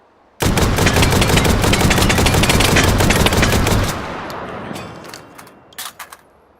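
A gun in a VR shooting game, fed from a 20-round magazine and fired one-handed, lets off a loud, rapid burst of automatic shots for about three and a half seconds. A few faint clicks follow as it fades, with no voices.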